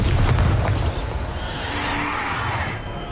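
A Bombarda spell blast in Hogwarts Legacy on Nintendo Switch, a loud low boom up front that fades into a hissing, rumbling tail.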